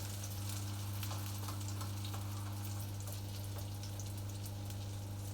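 Sweet potato cakes, pressed down flat, fry in a pan with a constant close hiss and crackle of oil, steady and unbroken, under a low background hum, with no one speaking.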